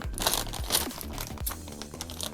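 Parts of a NorthBayou NB F80 gas-spring monitor arm stand are unpacked from packaging, with steady crinkling of plastic wrap, crisp tearing and small knocks of hardware close up, and no talk.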